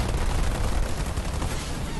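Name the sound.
gunfire on Marines in Halo Wars 2 video game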